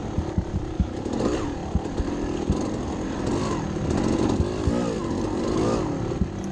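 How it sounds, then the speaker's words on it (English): Dirt bike engines rev and drone through wooded terrain at a hare scramble race, a steady buzzing roar with repeated throttle blips, some near and some farther off, with no talking. "you can hear people revving and stuff"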